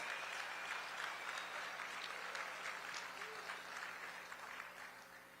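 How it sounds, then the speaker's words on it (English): Audience at the annual Houston Humanitarian Awards gives a sustained round of clapping, a dense even patter of many hands that stays strong and then tapers off slightly near the end. "Let's give them a rousing applause."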